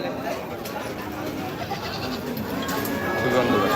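A goat bleats at the Horjotpur haat, a rural livestock market, heard amid a dense wash of crowd noise and nearby talking.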